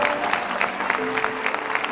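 A church congregation applauds steadily and fairly loudly, a dense continuous patter of clapping with faint crowd murmur underneath.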